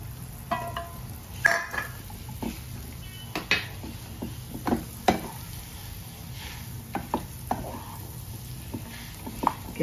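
Mashed sweet potato being stirred and sautéed in ghee in a pan for sweet potato sheera, heard as scattered clinks and scrapes of a spoon against the pan over a faint background hiss.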